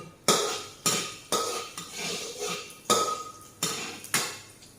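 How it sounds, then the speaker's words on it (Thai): Garlic is stir-fried in a pan with a spatula that scrapes and clanks against the metal in repeated loud strokes, each followed by a short sizzling rustle. "ใส่กระเทียมลงไป พอผัดกระเทียมแล้วก็ใส่หมูลงไป"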